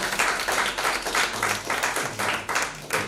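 An audience at an academic lecture claps, a moderately loud, even patter of hands with gentle swells, running for a few seconds.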